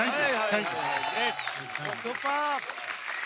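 Studio audience applause for a guest on The Kapil Sharma Show comedy stage, a steady clapping wash running under a voice as he speaks.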